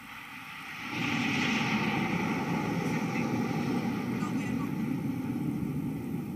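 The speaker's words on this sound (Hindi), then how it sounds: "और अब बारी है प्रशिक्षण के लिए उपयोग में लाए जाने वाले हॉक लड़ाकू विमानों की।" A Hawk jet trainer aircraft roars past at a naval display, its engine noise swelling suddenly after a quiet moment into a loud, sustained whine and rumble that slowly eases off.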